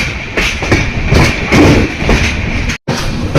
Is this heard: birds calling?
no